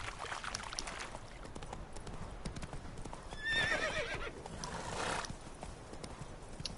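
The witcher's horse Roach in The Witcher 3 clip-clops along and lets out a loud neigh midway, hooves steady and close against faint outdoor ambience.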